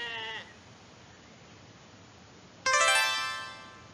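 Two loud, close sheep bleats on a farm with goats, one short call at the start and a longer wavering one near the end, with a quiet pause between them.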